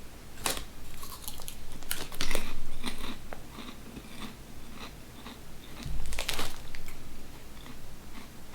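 Crunching bites and chewing of Lay's Layers three cheese potato chips, with repeated crisp, close crunches in irregular bursts and no talk.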